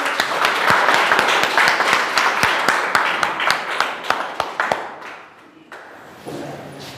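Loud applause at a school result celebration, crowded clapping with sharp individual claps standing out near the front, thinning into scattered claps and then a quiet room with faint background activity.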